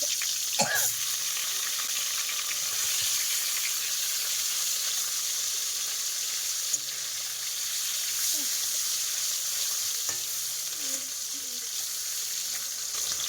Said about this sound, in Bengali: ওদিকে মাছ ভাজা হচ্ছে